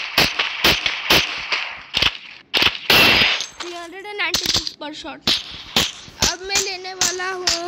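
Woodpecker gun in the Free Fire video game firing a rapid run of sharp, loud shots close by, with someone speaking Hindi between the bursts.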